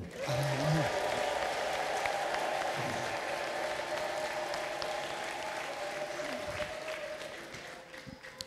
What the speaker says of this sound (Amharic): እስኪ እልልታ ለጌታ አምጦ